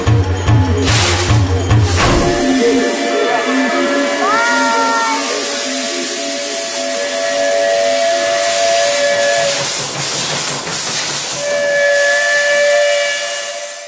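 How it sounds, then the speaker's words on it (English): A Baldwin steam locomotive on a Bombay railway sounds long, loud tonal whistle blasts over a constant hiss of steam, after a brief low rumble, with a voice partly audible. "It's a beautiful sight to see a steam locomotive fully steamed up,"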